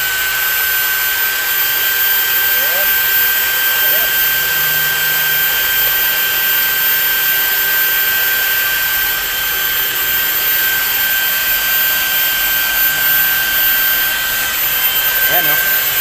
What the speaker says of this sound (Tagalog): buksan natin ulit itong drill natin